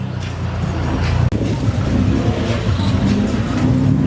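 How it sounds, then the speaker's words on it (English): A Subaru STI with a 2.5 engine and stock exhaust idles and revs at a car meet, a loud, steady rumble with a brief dip partway through. "Here's a stock exhaust on a Subaru."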